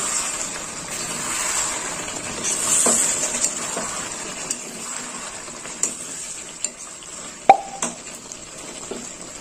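Meat being stir-fried, kosha style, in a pan, heard as a continuous frying sizzle with scattered sharp spatula scrapes and knocks against the pan, the strongest near the end.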